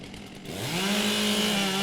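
Chainsaw revving up and biting into timber at a women's timbersports woodchopping championship in New Zealand, the engine rising from idle to a loud, steady full-throttle cutting whine.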